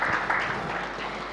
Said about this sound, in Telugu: ఒకసారి చప్పట్లతో అభినందనలు తెలియజెప్తాము